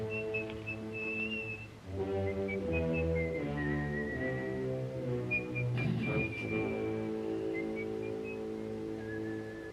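Someone whistles a tune, a clear melodic line of held and sliding notes heard alongside a low tonal film-score background, moderately loud and without talk.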